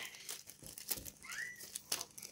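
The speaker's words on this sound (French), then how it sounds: "Et là, je vais déballer." Packaging crinkles and rustles in short bursts as a parcel holding a reborn doll is unwrapped, quiet and close, with a faint squeaky rubbing sound partway through.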